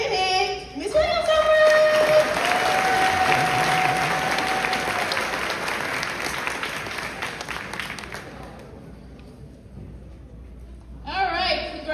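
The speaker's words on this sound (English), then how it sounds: "Let's give one more round of applause to all of our students" A graduation crowd breaks into loud, sustained applause and clapping for 8th grade students, holding steady for several seconds before fading into quieter murmurs, with a brief burst of clapping returning near the end.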